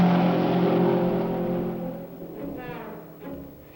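Leader Card Special race cars lap a freshly resurfaced track during qualifying, a loud engine roar close by at first that fades into the distance, followed by fainter passing whines.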